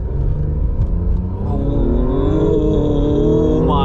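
A 2017 Acura NSX engine revs up hard and accelerates in first gear, its deep rumbling note climbing steadily in pitch over a few seconds, loud and close.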